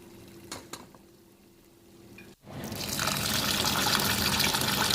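Water is poured and sloshed for washing, starting with a few faint knocks and then rising into a steady, loud gushing rush that fills the rest of the moment.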